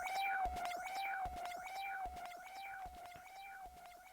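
A transition sound built in FL Studio sweeps and echoes through a stereo delay, with a steady tone under repeating swooshing chirps and soft low thumps in a regular rhythm.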